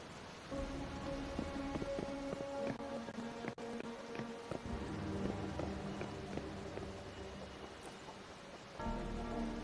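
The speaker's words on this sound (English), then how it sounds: "Something's wrong with this rain." Rain falls in the video game Wuthering Waves, a soft steady patter of drops with light clicks and a tonal music bed underneath, quiet throughout.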